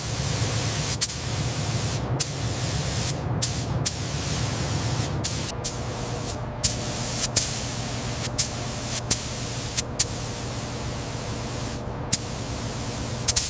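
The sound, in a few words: spray gun applying industrial anti-rust primer to truck chassis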